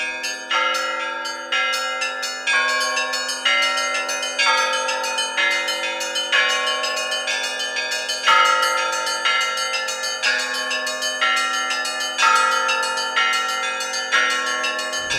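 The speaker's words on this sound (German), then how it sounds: "Die Glocken sind meine Leidenschaft." Church bells ring in a Russian bell tower, a rhythmic peal of several bells struck in a repeating pattern, bright overlapping strikes each ringing out with long sustained tones, clear and close with no voices.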